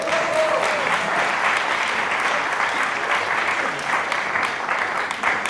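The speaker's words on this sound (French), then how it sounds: "On peut applaudir Marion ?" A live audience at a tribute concert applauds a performer named Marion, a dense, sustained wash of clapping close by at full volume throughout.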